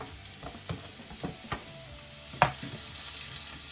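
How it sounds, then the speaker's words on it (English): Vegetables for scrambled tofu sauteing in a non-stick frying pan, faint sizzling with a few scattered taps and scrapes of a plastic or wooden utensil stirring, one sharper clack near the end. "I'm just gonna go ahead and saute my vegetables"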